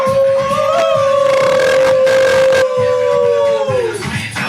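A person imitates a wolf howl, a long steady wavering tone held for several seconds before sliding down at the end, loud and close.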